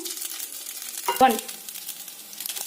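Rice halwa in ghee sizzles softly in a pan as a spoon stirs it, with one brief louder scrape in the middle amid a light, steady frying hiss.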